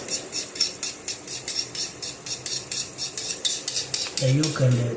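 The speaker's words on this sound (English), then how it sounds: "So now we're gonna stir it. So we stir for the yolk and the" A utensil beats eggs in a metal pot to mix the yolk for an egg stew, making rapid rhythmic clinking strokes close up, then a brief heavier scrape at the end.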